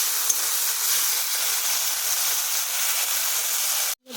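Water poured into a pan of frying spice masala for a vegetarian fish curry, giving a loud, steady, close sizzling hiss that cuts off abruptly near the end.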